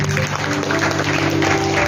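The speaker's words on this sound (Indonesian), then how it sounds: "Berikan tepuk tangan bagi Tuhan kita." Steady applause from a church congregation fills the whole stretch, dense and loud, with a faint hum running underneath.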